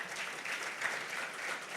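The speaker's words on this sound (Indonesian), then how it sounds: "Ayo, jangan ragu lagi, tepuk tangannya bagi Tuhan kita." A congregation at a Pentecost worship service in a Jakarta hall claps together, a soft, distant-sounding, steady patter of many hands that runs evenly from start to finish.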